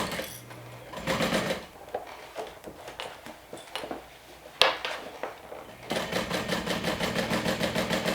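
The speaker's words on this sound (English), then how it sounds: "And stitch slowly at the curve." A sewing machine stitches slowly around the curve of a handmade crossbody bag, running in short start-stop bursts before settling into a steady rapid whir, close up with no talking.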